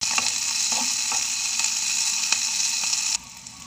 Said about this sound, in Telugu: ఉల్లిపాయలు బాగా వేపుకుందామండి.